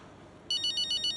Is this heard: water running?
no